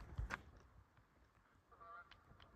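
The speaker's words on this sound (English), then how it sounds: "There's a goose." A goose honks once, close and fairly loud, beside old railroad tracks along the DL&W cutoff outdoors, followed by faint distant calls over a soft outdoor background.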